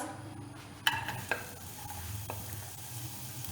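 Chopped onion frying lightly in ghee in a pan gives a soft, steady sizzle, with a few sharp utensil clinks and scrapes from stirring.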